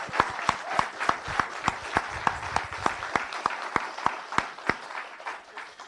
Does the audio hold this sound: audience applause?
yes